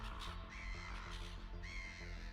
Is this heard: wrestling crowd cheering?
no